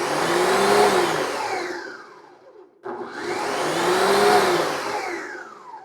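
A blender whirs through lentil bun batter until smooth, two loud whining spins that rise in pitch as the motor speeds up, split by a brief near-pause, with no talking.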